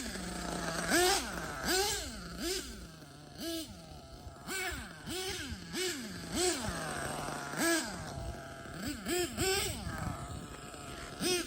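LRP 32x Spec4.1 nitro engine in an on-road RC car during break-in, buzzing steadily and rising and falling in repeated short throttle blips at light throttle, fairly near and without talk.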